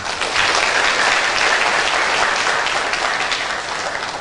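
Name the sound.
audience applause at a Dhamma talk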